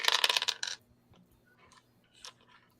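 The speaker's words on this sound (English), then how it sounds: "You can roll 3 dice." Three dice rolled during a tabletop horror role-playing game, a quick clattering rattle lasting under a second, followed by a few faint clicks as they settle, close and otherwise quiet.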